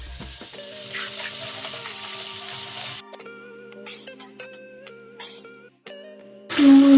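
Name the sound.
frying ginger paste with cumin and tomato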